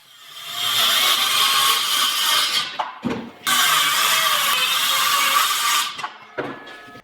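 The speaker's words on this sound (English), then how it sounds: "I had ripped down some boards that I needed to now cut to length at the miter station" Miter saw cutting ripped wood boards to length at a miter station, two loud sustained cuts with a brief pause between them and a short lighter burst near the end, no talking.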